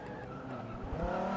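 In Forza Motorsport 6, a race car locks its brakes, and a tonal tire squeal rises over the engine drone for about a second.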